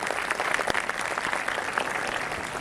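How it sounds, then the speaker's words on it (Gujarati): Steady, dense applause from a large audience at a Rajput community Vijayadashami festival gathering in Vadodara, a continuous mid-distance wash of clapping with no voices over it. "આપણે આ બાબતને તાળીઓના ગડગડાટથી વધાવી લઈએ"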